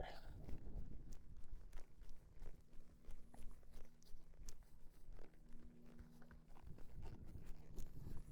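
A horse trotting out with a steady rhythmic clip-clop of hooves on the ground, fairly faint and close, with a low hum in the background.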